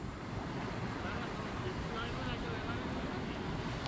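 Rushing white water roaring in a constant dense wash at Geiranger, Norway, loud and steady, with wind buffeting the microphone.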